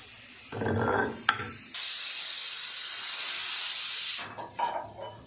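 A pressure cooker whistle releases steam in a home kitchen while fish curry is being cooked, giving one sustained, loud hiss of a few seconds between softer clattering kitchen sounds.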